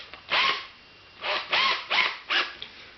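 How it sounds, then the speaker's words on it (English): A small drill bites into a Mamod steam pipe from an older engine in five short grinding bursts, close and fairly quiet, with pauses between them. "Simply drill into the steam pipe."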